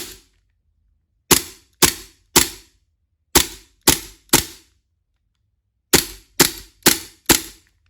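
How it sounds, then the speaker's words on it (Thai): A WE Hicapa T-rex BB gun fires eleven sharp, loud snapping shots, close by, in quick groups of three and four with short pauses between, alone with no talk. "ยิงแน่นๆนะครับตัวนี้"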